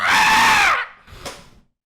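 A person imitates a pterodactyl screech with the voice, a loud, shrill, wavering scream lasting under a second, followed by a quieter rasping tail and a brief breathy burst.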